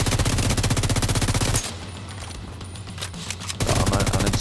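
Rapid assault rifle fire in The Division 2, loud sustained automatic bursts at close range, breaking off briefly in the middle before the rattling volley resumes.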